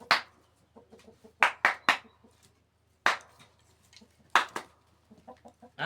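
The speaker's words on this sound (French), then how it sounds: "On rentre les poules." Hens clucking in short, irregular bursts as they are shooed into their coop at bedtime, some calls close and sharp, others softer, with quiet gaps in between.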